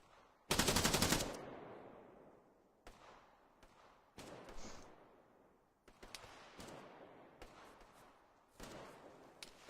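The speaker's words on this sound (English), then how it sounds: "The C9 always sounds like it's single shotting" A C9 light machine gun fires in a military video game: one loud, fast burst, then a string of spaced single-sounding shots with distant echoing reports.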